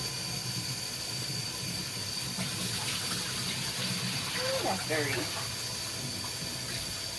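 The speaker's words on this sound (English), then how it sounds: "I'm washing them in the bucket because there's also a lot of small carrots in here" Running water rinses freshly harvested beets and small carrots in a bucket, a steady close splashing wash throughout, with a brief comment spoken partway through.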